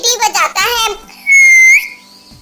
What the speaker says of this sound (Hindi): कालू कौवा जोर से सीटी बजाता है